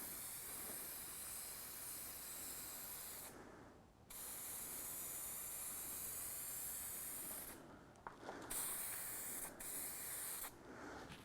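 Spray gun applying Eastwood 2K Chevy orange paint to an engine block, a loud continuous hiss in long bursts with brief pauses between passes, close and alone without talk.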